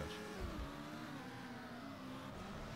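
A race car engine in Need for Speed III: Hot Pursuit hums steadily with a sustained, slowly shifting pitch, fairly quiet throughout.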